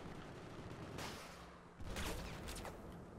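Rapid bursts of automatic gunfire in the Battlefield 4 video game, some crackling volleys that are dense but fairly quiet, with a louder stretch of firing toward the end.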